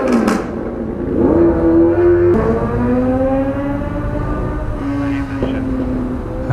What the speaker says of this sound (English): He cut open his exhaust and then there's no packing in there, so it's like straight pipe.